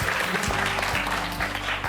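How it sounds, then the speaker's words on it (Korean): Lecture audience in Korea clapping on cue after a correct answer, a brief burst of applause mixed with a low background hum and a few sharper claps. "박수 한번 부탁드려요."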